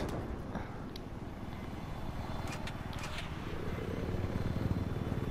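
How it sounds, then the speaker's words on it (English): A steady helicopter drone with rotor chop plays continuously at a moderate level in the video game Battlefield 4, with a few sharp clicks partway through. "I have eyes on a hostile helicopter south of your position."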